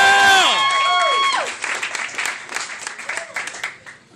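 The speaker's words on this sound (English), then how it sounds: "please give a big round of applause for Cat Harvey!" A comedy club audience applauds and cheers at the end of a stand-up set, over a brief musical sting at the start, then settles into steady clapping with bursts of whooping.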